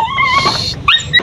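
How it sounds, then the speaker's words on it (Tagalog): A pet dog whimpers and whines at home just after rain, high thin cries rising and falling, then two sharper yelping whines near the end, close and fairly loud with no talking. "Gusto lumabas ng aso namin"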